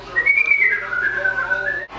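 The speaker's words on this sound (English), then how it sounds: "She doesn't answer the whistles." A person whistles a single sustained tune up close, its pitch gliding and wavering for about two seconds, clear and alone against a quiet background.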